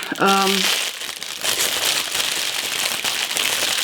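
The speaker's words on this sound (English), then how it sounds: "Let me just open this packaging up." Cardboard and plastic packaging from a book subscription box is torn open and crinkled close up, with a short tonal squeak at the start followed by continuous rustling and crackling.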